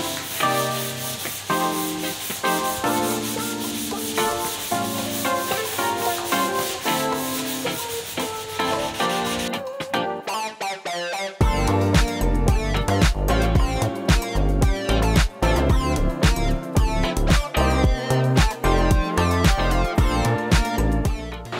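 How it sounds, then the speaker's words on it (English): Steady rough sanding against a car hood, a continuous scratchy rubbing that grows louder and heavier partway through, with no talking. "we've got the sanding done for the main part"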